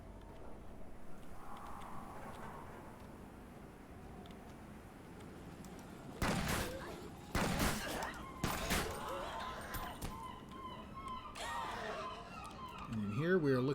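Pistol shots in the video game Secret World Legends: a handful of sharp, loud cracks clustered in the middle, between quieter game ambience and someone talking.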